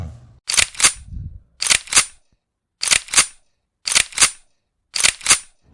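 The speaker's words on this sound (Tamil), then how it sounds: "இன்னும் ஒரு அடி எடுத்து வச்சானாலும் உன்னை துப்பாக்கியால சுட்டு விடுவான்." Cartoon gunshots come as five evenly spaced pairs of sharp, snappy bangs, each double shot crisp and close with brief quiet gaps between.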